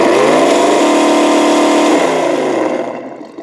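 A Tamiya Toyota Tundra High Lift RC truck with an MFC-02 unit runs its motor at third speed, giving a close, loud, steady electric whine that holds for about three seconds and then fades away.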